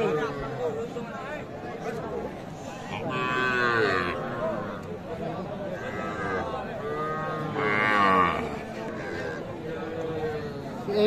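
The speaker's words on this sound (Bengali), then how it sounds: "পাশে যেগুলো দেখছি এগুলো সব ষাঁড় বাচ্চা" Young bulls at the Aftabganj cattle market lowing twice in drawn-out, fairly close moos amid the crowd's chatter, with people talking nearby throughout.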